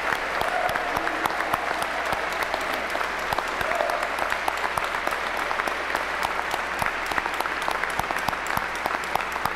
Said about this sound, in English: Now you may give a round of applause to the top 10 graduates.